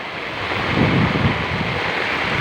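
Floodwater rushes steadily along a street during Typhoon Christine, a continuous broadband roar of moving water with wind buffeting the microphone, swelling slightly midway and staying loud throughout with no voices.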